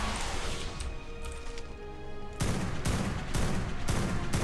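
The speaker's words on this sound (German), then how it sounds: "Ich sehe die Rakete und löse die aus mit dem Sniper." Sniper rifle shot detonating a rocket in ARK: Survival Evolved on the Valguero map, a quiet humming stretch followed by a loud blast and a run of rapid, evenly spaced heavy reports.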